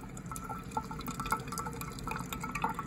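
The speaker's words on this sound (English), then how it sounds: "Look at it drip." Brewed coffee drips in a quick, irregular patter of small, close liquid drops, with no voices.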